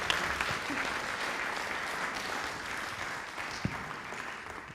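Audience applause from a Rotary club meeting crowd, steady and dense for nearly five seconds, with a few louder individual claps standing out near the end.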